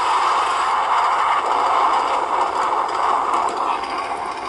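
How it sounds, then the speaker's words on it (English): A jet train in a Thomas the Tank Engine race runs along the track with a steady, loud rumbling clatter and continuous rattling, no breaks and no voices. "Let the jet train take over."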